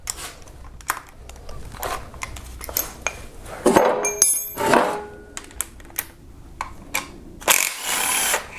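10 and 12 mm timing cover bolts are unscrewed on a Kia Optima, giving sharp metallic clicks and clanks at irregular intervals, with a few louder tool bursts close by.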